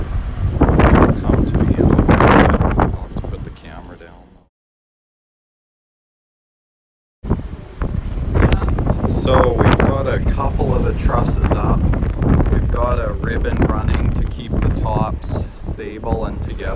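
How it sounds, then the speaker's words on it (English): Strong wind buffets the microphone in loud, rumbling gusts, briefly cutting out, while a person talks through it, on a building site where roof trusses are being put up for a passive house. "So it's pretty windy today"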